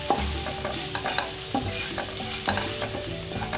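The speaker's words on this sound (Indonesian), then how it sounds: "Oke, aku tumis dulu sampai harum." Spices with ground turmeric sautéing in a frying pan for spicy fried yellow rice, a soft steady sizzle broken by repeated clicking scrapes of a spatula stirring against the pan.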